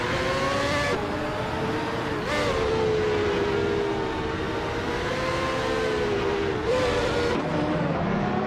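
1995 IndyCar racing cars on the Tsukuba short track in a racing game give a loud, continuous high engine whine whose pitch rises and dips with shifts, lasting the whole stretch.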